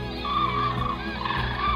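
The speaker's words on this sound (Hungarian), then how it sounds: "most úgy néz ki, hogy beindultak a madarak, több irányból is jön csapat" Flocks of wild birds arriving from several directions at a Hungarian nature reserve, a dense chorus of honking, gobbling calls overlapping continuously and fairly close, with no talk.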